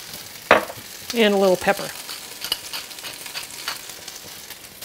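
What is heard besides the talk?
potatoes frying and being stirred in a large pan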